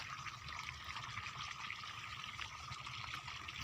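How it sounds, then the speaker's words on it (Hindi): Irrigation water runs steadily through channels into a maize field, a soft continuous trickling and gurgling flow heard at low level with no talk. "यो पानी चालू है और सदी रहा एक एक ढाया एक एक नाको लगा रही मक्का में"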